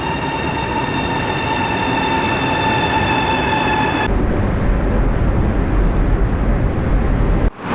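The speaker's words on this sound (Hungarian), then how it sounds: "Megérkezett a vonat" Train arriving at a station in China, loud rumbling with a high squealing brake tone that holds for several seconds, then cuts off as the heavy roar continues to the end.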